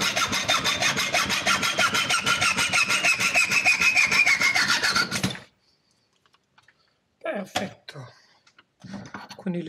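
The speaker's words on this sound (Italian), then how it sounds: "Ora andiamo a tagliare le nostre piastrine con un seghetto da ferro." A hacksaw cuts through small metal plates for a bicycle build, a fast, even rasping back-and-forth of strokes up close for about five seconds. The sawing then stops, and a few brief scrapes and handling noises follow.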